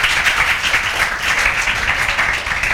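Continuous, dense applause from a roomful of students fills the classroom, even and sustained without pause.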